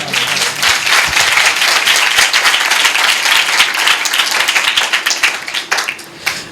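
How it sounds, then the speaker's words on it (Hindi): Loud, sustained applause from a large church congregation during a Sunday service, dense clapping filling the space steadily for several seconds with no talking. "यीशु के लिए जोरदार तालियां।"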